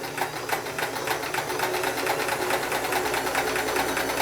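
A Sears Kenmore 158 series free arm sewing machine runs a stitch at a steady fast rhythm, loud and close, with a continuous mechanical whir and regular needle clatter.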